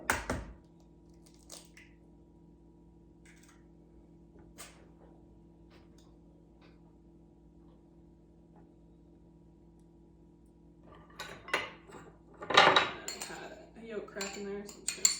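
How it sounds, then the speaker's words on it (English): Eggs from backyard chickens cracked into a separate dish, with sharp isolated taps against the bowl amid long quiet, then a busier run of clinking dishware near the end, close and without talking. "crack 2 more eggs. Because these are eggs from our chickens, I like to crack them in a separate dish"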